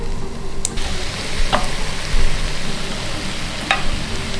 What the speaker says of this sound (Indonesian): Pasta tomat emang harus ditumis dulu supaya rasanya itu develop